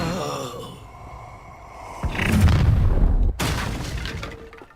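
A spell blast in the Hogwarts Legacy video game, cast with a loud whooshing burst that swells into a heavy, sustained impact rumble and then cuts off sharply before a second surge, following a voice.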